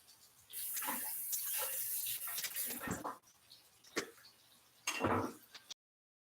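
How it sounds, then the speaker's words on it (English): Running tap water splashes over a jalapeno and a green pepper being washed in a kitchen sink, a steady close hiss broken by handling knocks, stopping briefly before a final gush. "Wash off my 2 peppers."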